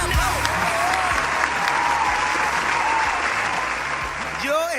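Enthusiastic audience applause at a live show fills the scene, a dense, loud, steady wash of clapping from a large crowd with a voice and faint tones sounding over it.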